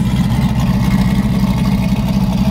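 A 1962 Corvette restomod with a ZZ6 motor and Inglese setup, exhaust routed out the side pipes, rumbling in a loud, steady low idle with a dense throbbing burble and no talk.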